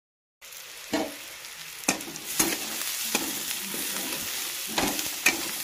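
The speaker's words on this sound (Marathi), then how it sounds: "आता कांदा बी भाजत आलाय मस्त पैकी." Onions fry in a pan with a steady soft sizzle, broken by a handful of sharp scraping stirs spaced a second or so apart, close and moderately quiet.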